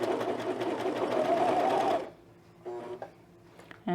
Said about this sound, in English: You can stitch it with your straight stitch machine to kind of keep it in place if you need to.